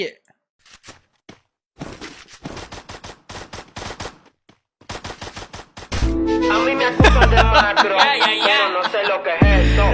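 Gunfire in the mobile game Free Fire: sparse single shots first, then rapid bursts of loud, close game-weapon fire, followed by dense layered combat noise with a voice talking over it.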